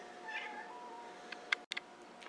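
Hungry domestic cats meow for food, giving a soft meow followed by a few short, faint chirping mews, close by in a quiet room.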